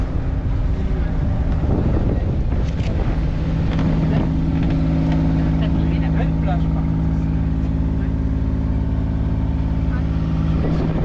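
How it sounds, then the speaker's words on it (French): Strong wind buffets the microphone aboard a sailboat cruising on the Odet river, a steady loud roar with gusty rumble throughout, mixed with boat and water noise and some background voices. "Il y a un peu de vent, mais un peu beaucoup de vent même"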